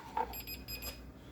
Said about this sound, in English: there's our timer for our potatoes